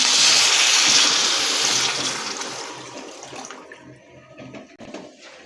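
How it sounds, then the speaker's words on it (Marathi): Water pours steadily into a pot of spice-coated potatoes for curry, with a loud splashing rush that gradually fades to a softer trickle, with light clinks near the end. "पाणी ॲड करायचं आहे"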